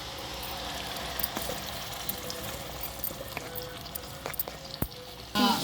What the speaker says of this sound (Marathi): छान ग्रेव्ही तेलामध्ये परतून घ्यायचे चांगलं असं तेल सुटेपर्यंत ह्या मसाल्याला आपल्याला परतून घ्यायचं आहे